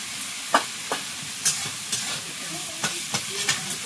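Shrimp with turmeric and salt stirred in a hot pan, a spatula scraping in scattered strokes over a steady low sizzle, close and fairly quiet.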